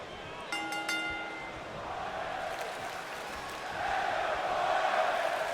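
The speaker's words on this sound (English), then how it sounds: "You hear an audible section of the crowd cheering on for Daniel Bryan" A crowd cheering in the WWE 2K19 wrestling video game, a broad steady roar that swells louder toward the end, preceded by a brief tonal chime.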